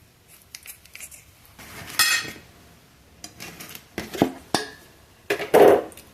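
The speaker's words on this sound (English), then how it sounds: "I think I'm going to cut them in strips and cook them that way." A knife slicing chicken thighs into strips on a board, a sparse series of sharp taps, clicks and scrapes at irregular intervals, close and fairly quiet.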